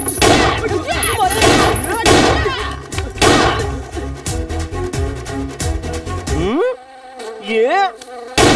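A housefly buzzes loudly and close, its whine rising and falling in pitch as it darts around over a busy, noisy background, then continues more clearly and nearer after the clutter drops away.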